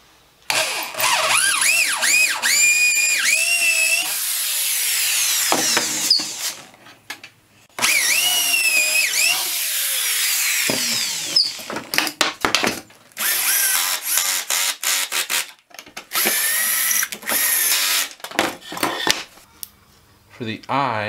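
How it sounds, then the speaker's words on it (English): Power drill driving pocket screws into glued pallet-wood boards for an International Harvester barn-red sign, running in several loud, sustained whirring bursts with short pauses between, close up and mostly alone. "So let's get these attached with probably some glue and some pocket screws."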